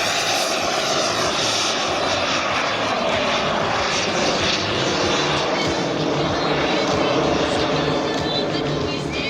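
A loud jet engine on a large 1/3-scale radio-controlled L-39 Albatros model jet roars close by, a sustained whining rush that holds strong throughout as the plane passes low overhead.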